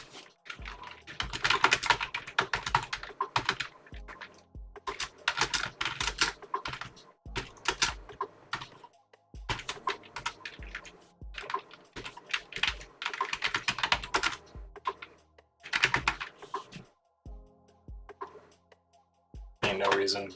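Someone types on a computer keyboard while writing game code: close, crisp clusters of key clicks in quick bursts, separated by short pauses.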